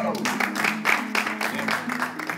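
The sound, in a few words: studio audience applause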